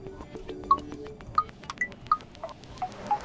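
A series of short electronic beeps at varying pitches from an Honor X6b phone's dial pad set to melody tones, playing a little melody, spaced irregularly over a faint background hum.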